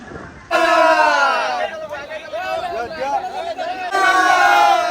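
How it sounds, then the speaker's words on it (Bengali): A dense crowd at the Puri Rath Yatra chariot festival fills the air with loud, continuous chatter, and a nearby voice rises clearly above the hubbub. "এখানে প্রচন্ড ভিড়, 1 মিনিটও দাঁড়াতে দিচ্ছে না।"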